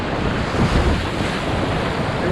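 A kayak drops over a low rock into rapids on the Tellico River in Tennessee, heard as a steady loud roar of rushing whitewater and wind buffeting the microphone, with no talk.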